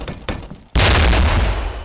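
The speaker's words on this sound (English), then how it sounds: "Flashbang!" A flashbang grenade detonates in a first-person video game, a sudden loud blast after a few small clicks that leaves a sustained ringing roar.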